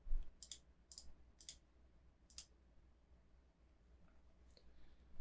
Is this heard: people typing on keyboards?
yes